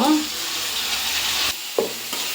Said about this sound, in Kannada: ಇವಾಗ ಟೊಮೊಟೊ ಫ್ರೈ ಆಗಿದೆ